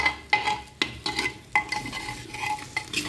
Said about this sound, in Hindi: और इसको हम अच्छे से जो है मिक्स करेंगे